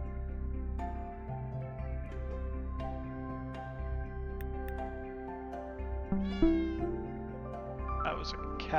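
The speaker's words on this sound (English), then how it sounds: "That was a cat." Cat meows inside the video game Hidden Paws, heard against steady game music and talk, with a few short higher calls toward the end.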